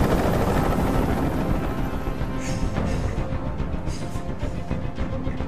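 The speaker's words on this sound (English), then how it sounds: "I can't stand that noise anymore. Tell that helicopter to get out of here." A helicopter hovers overhead in the video game Detroit: Become Human, its steady rotor drone loud and continuous throughout with no voices.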